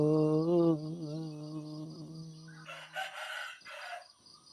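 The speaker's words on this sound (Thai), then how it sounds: "โอ้ไก่ขันพี่น้องทักทายยามเช้าเด้อ" A rooster crows once in the morning, a loud close cock-a-doodle-doo lasting about two seconds, followed by short clucking and rustling.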